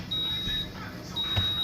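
A steady high electronic beep, like an alarm tone, sounds twice in long stretches over low background noise, with a brief gap between.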